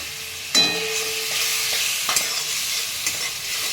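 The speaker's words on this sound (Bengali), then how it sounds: "তেলি মশলা দিয়ে দিচ্ছি, ধনের গুঁড়ো, জিরের গুঁড়ো, হলুদ আর কাশ্মীরি রেড চিলি পাউডার" Ground coriander, cumin, turmeric and Kashmiri red chilli powder hit hot oil with green chilli paste, giving a steady close sizzle broken by a few sharp scrapes and knocks of a stirring spoon.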